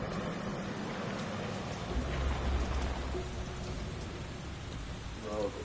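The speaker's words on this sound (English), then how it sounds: "don't tell me it's fucking raining outside right now" Steady rain patters outside in a constant, textured hiss, with faint low rumbles and a voice briefly audible near the end.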